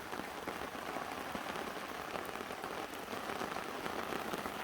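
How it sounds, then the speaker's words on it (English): Steady rain patters on tent fabric and the ground at a lakeside campsite in September, a dense, even hiss of drops with no breaks and no voices, fairly faint. "it is still raining"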